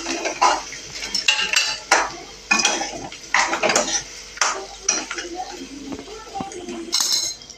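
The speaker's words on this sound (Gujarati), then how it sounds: "એ બધું મિક્સ કરી દઈશું બટેટામાં" Utensils clink and scrape against a pot while spiced samosa filling is mixed into potatoes, with repeated loud stirring strokes in an irregular rhythm close by and a little background sound between them.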